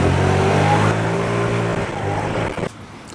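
A secondhand scooter pulls away on a test ride, its small engine droning loudly at first, then fading as it moves off until it is gone.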